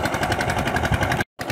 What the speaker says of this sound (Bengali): এখন মেশিন চলছে, এখনো যাবে ওই মেশিনের কাছে।